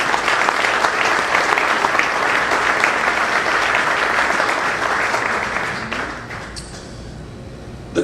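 Sustained applause from a gala audience honoring the deans at a university's 60th anniversary celebration, steady and full for about six seconds before thinning out toward the end.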